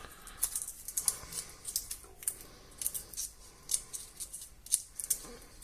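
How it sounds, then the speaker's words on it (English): Garlic cloves being peeled by hand for a white bean and clam stew, a series of faint, crisp crackling snaps and papery rustles at irregular intervals, with no talking. "I'll start off by peeling these garlic cloves up."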